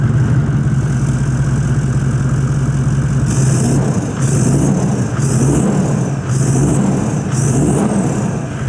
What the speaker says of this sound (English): The exhaust that I have in here is a custom-made job from an engineering company